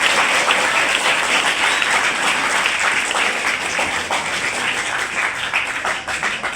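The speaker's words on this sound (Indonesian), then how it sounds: "Beri tepukan untuk Pak Ismet." Sustained applause from an audience at a school gathering at SMK Al Azhar Baloi honoring a guest, a dense and even wash of many hands clapping throughout.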